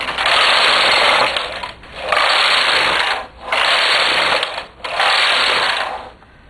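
A knitting machine with a ribber attachment knits in four loud, steady, whirring carriage passes of roughly a second and a half each, separated by brief pauses, up close with no talking.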